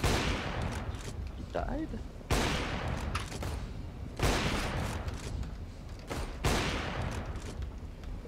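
Gunfire in CS:GO comes as several loud, sharp bursts spaced a couple of seconds apart, each trailing into a reverberant tail, while a player talks briefly over it.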